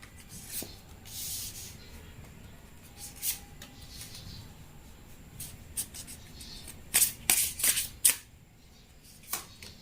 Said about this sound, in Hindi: और तो चलिए गाइस, फटाफट कार्ड निकाल लेते हैं, ज़्यादा देर नहीं करेंगे।